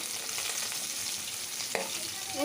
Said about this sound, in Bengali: এখন মাছ ভাজবো এটি দেখো মাছ দিয়ে দিলাম